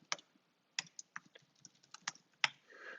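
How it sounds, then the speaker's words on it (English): Keystrokes on a computer keyboard, a sparse, irregular run of about a dozen crisp clicks with a short burst near the end, close and quiet with no talk. "Let's type this."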